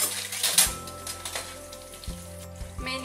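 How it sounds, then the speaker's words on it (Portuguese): Cutlery is rinsed under a running kitchen tap, with a steady hiss of flowing water and occasional light metallic clinks of the utensils, close up. "enquanto eu tô enxaguando aqui os talheres"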